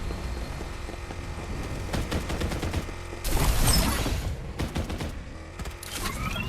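Dense gunfire from the battle video game Farlight 84 rattles in continuous bursts over a busy game soundscape, swelling into a louder, heavier volley midway before settling back to steady shooting.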